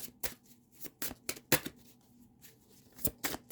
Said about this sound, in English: These are all tarot. Let's shuffle this up.